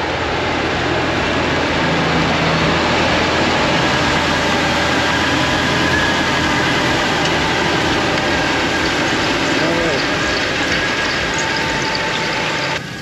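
Tractor pulling a seed drill at full throttle while sowing rye, a loud, steady, continuous engine roar with no break across the whole stretch.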